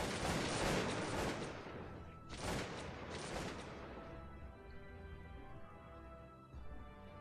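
Massed musket volleys in the Cossacks 2 strategy game, several loud crackling bursts of overlapping shots in quick succession, then fading to scattered distant pops.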